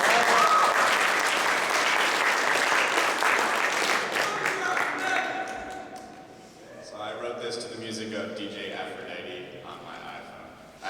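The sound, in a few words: audience applause for a musician at a poetry event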